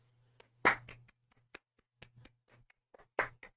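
Hands clap in a sparse, irregular burst of sharp slaps, a few louder claps standing out among lighter taps against a low background hum.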